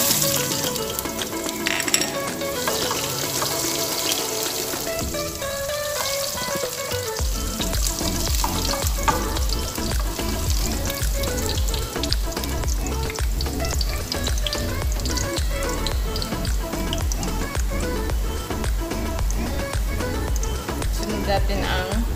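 Ginger sautés in a pan for a Filipino clam soup, a steady, close sizzle that runs the whole time, with a heavier, rhythmic stirring texture coming in after the first few seconds.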